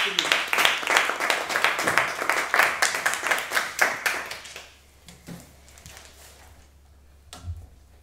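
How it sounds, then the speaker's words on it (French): Audience applause at a French university debate competition between ICES and Sorbonne, a burst of clapping for about four seconds that fades out, followed by a quieter room with scattered faint sounds. "sous vos applaudissements"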